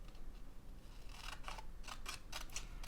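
A few quick, crisp snips of scissors cutting through craft paper for an autumn collage, close and fairly quiet, clustered in the second half.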